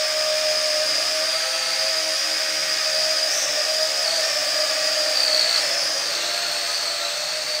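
A Potensic D58 quadcopter drone flying indoors gives off a steady, high-pitched whine of spinning propellers, held close and constant throughout with slight pitch wavers and no talk.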